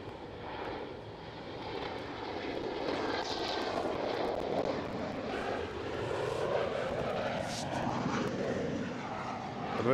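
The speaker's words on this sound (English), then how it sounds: "KLM City Upper E190." A KLM Cityhopper Embraer E190 landing at Schiphol produces a steady jet roar with a rising whine that holds loud and close for the whole stretch, without talk.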